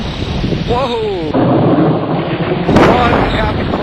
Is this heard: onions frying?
no